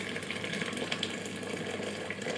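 Freshly boiled kettle water being poured into a cooking pot, a continuous close rushing, gurgling pour with a steady level and slight bubbling texture, no talking.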